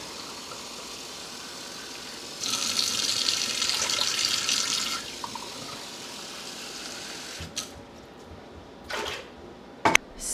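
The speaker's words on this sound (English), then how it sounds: "Let's add 4 cups of water in here." Four cups of water pour into a cooking pot in a short, splashing stream lasting a few seconds, followed by quiet kitchen handling sounds and a few clunks.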